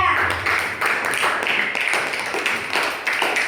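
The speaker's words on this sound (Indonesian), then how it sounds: "Tepuk tangan untuk kelompok 3." A school class claps for a presenting group, with a steady, fairly loud rhythmic patter of many hands close by and little talk.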